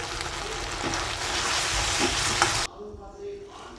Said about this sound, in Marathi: आता यात कांदा पात टाकून घ्यायचे आहे थोडे मोठं टाकून घ्यायचे आहे